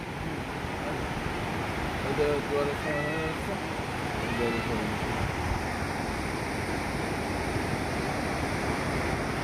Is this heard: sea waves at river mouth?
yes